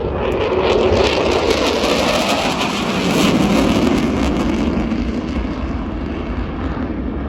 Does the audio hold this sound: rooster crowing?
no